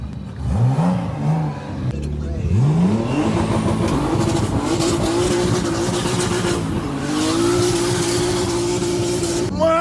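A BMW drag car's engine revs hard and close, climbing in repeated pulls with a loud, continuous roar.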